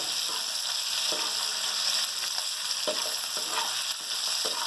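Cumin seeds frying in hot oil for village-style brinjal bharta make a dense, loud, steady sizzle and crackle, with a few brief spatula scrapes and knocks breaking through.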